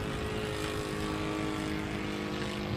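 A 90-inch-wingspan Ben Buckle Super Buccaneer radio-controlled model airplane flies past, its small propeller engine droning steadily at a constant pitch, a buzzing hum that holds level throughout with no voices.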